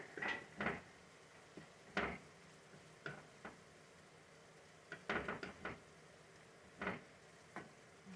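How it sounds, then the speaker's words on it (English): Wooden spoon stirring in a copper non-stick pan, giving sparse scraping and tapping strokes at irregular intervals, fairly quiet against a faint background, with no talking. "Gonna stir it around."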